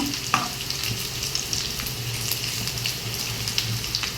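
Bitter gourd fries over a low flame and is stirred repeatedly, giving a steady, soft sizzle broken by light scraping taps. It runs alone and even throughout.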